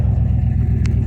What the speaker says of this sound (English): gotta get out here, start the truck